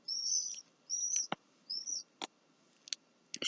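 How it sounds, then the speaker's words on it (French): Small birds sing outdoors in quiet surroundings, giving a few short, high, warbling phrases with a scatter of sharp clicks and chips between them. "Écoutez les petits oiseaux."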